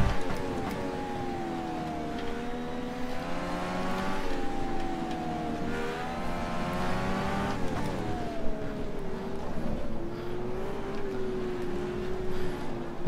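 A DW12 race car engine in the rFactor 2 sim at Atlanta Motorsports Park, whining steadily with rising and falling pitch as it revs through gears and corners, continuous and alone without talk.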